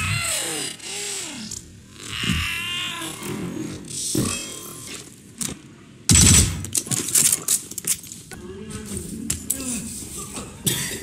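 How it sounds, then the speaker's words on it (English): Gunfire in the Hitman video game, set in Bangkok: scattered sharp shots and a short burst ring out among busy in-game clatter, with voices talking at times. "It sounded like fireworks, but I'm sure it was gunshots."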